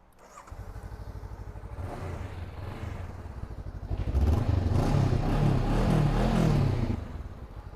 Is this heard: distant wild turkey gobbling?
no